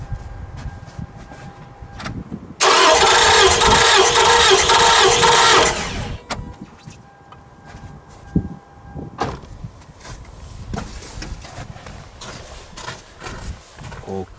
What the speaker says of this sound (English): And then I start this my engine.